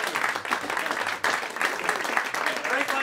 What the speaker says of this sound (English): please give a big round of applause to this great band